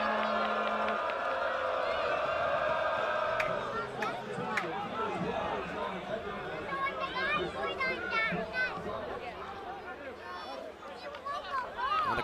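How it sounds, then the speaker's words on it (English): A soccer crowd murmurs and cheers at Jeffrey Field during a Big Ten men's match between West Virginia and Penn State, a broad hubbub of voices and shouts beneath close commentary. "Crowd here at Jeffrey Field starts to come back to life"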